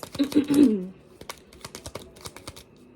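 Quick clicking and riffling taps of tarot cards being shuffled, a short dense burst at first followed by scattered crisp flicks, close and fairly quiet.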